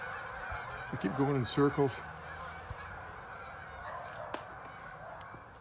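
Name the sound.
geese honking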